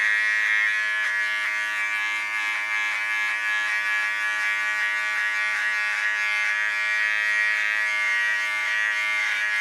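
A T.K.S. electric hair clipper, set to a 3 millimetre guard, buzzes steadily and close by while cutting hair for a blue and green Mohawk, its tonal hum unbroken for the whole stretch with no talking.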